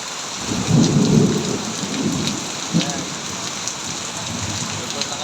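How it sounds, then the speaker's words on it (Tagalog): Heavy rain pours down steadily during flooding, a loud, close, continuous roar with a low rumble near the start. "Sobrang lakas ng ulan"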